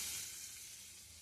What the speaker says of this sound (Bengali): দেখো কেমন করে ভাজছি